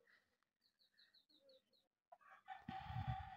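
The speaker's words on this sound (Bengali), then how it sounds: "দেখতে পারছেন এখানে কত মুরগি" Chickens in a coop give a run of short, soft clucks close by, followed by a sudden louder burst of squawking and flapping at the end.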